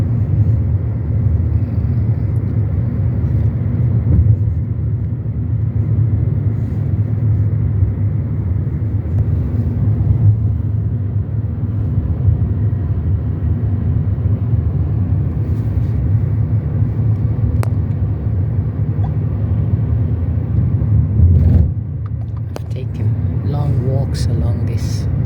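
A car cruising through Muscat, Oman gives a steady low engine and road rumble throughout, with a voice talking over the drive.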